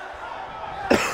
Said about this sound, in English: I still got a bit of a cough.